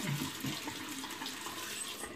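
Hot water runs from a tap over a Wilkinson Sword razor blade, a steady close rush of splashing water that continues without a break and with no talk.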